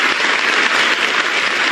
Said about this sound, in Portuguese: Rogério Galouro, o novo chefe da Polícia Federal, foi bastante aplaudido.